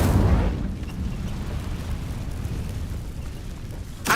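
A fire spell blast in the Hogwarts Legacy video game gives a loud, low rumbling burst at the start. A steady roaring whoosh follows and holds for several seconds, then a brief flare comes at the end.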